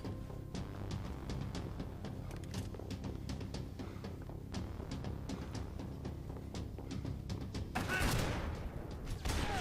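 Gunfire from the video game Max Payne 3: a dense, continuous fusillade of rapid shots and impacts under a busy game soundtrack, with a louder burst near the end.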